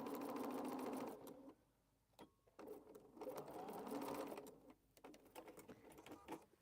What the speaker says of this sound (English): I'm trying to do some sewing.